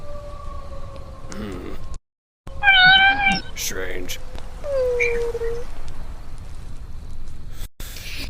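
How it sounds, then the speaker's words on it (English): A stray cat with no tag meows repeatedly in the open, bright rising-and-falling cries standing out clearly, with a person speaking briefly between them. "Maybe it's a stray cat."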